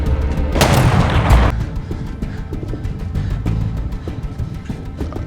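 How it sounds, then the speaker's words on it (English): Gunfire from a sharpshooter in the war film 1917: a loud booming burst in the opening second and a half, followed by a steady rumble with sharp cracks scattered through it. "Sharpshooter, whoever's shooting at him."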